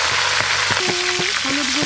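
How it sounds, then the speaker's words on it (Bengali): Potatoes and cauliflower fry in hot oil, a loud dense sizzle close up with a few soft knocks, while faint tonal squeaks rise over it near the end. "কেটে ধুয়ে রাখা আলু ফুলকপি ওই একই তেলে একটু ভালো করে ভেজে নেব।"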